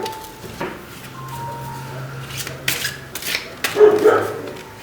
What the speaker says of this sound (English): next door's dog barking